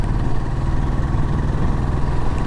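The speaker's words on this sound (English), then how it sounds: "There's a nice thump from the engine." A 2020 Royal Enfield 500 Trials motorcycle engine thumps loudly and close up, a steady rapid low pulsing beat with no talking.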